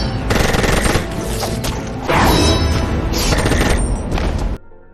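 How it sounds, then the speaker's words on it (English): Heavy gunfire rings out in a film fight scene as a lone fighter takes on a room full of armed soldiers, with dense rapid bursts and booming shots loud throughout before cutting off abruptly near the end. "The next room has a multitude of gun-wielding soldiers, but Violet's gun fu is spectacular in taking them out."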